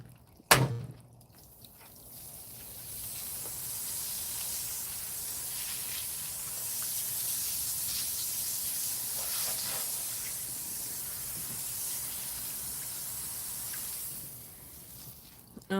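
Water spray rinses freshly hunted bear meat during butchering, a steady close hiss that runs without a break for most of the stretch, with brief knocks at the start and end.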